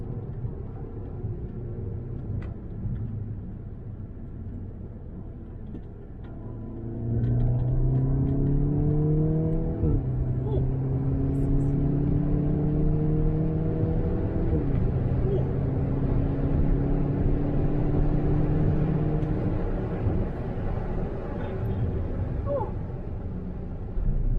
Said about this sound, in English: So much wind noise.